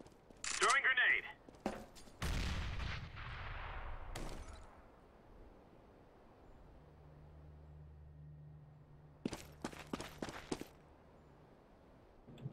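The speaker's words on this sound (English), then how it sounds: "Throwing grenade!" A grenade is thrown and gunfire breaks out in a shooter video game match on the Train map: loud bursts of shots, a blast-like roar and scattered footsteps, with players talking.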